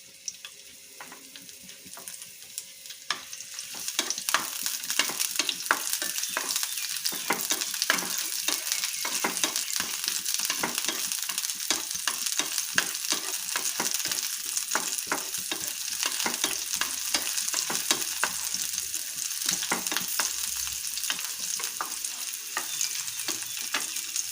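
Garlic and green chili frying in a hot pan, a steady close sizzle with frequent stirring scrapes running throughout, no voices.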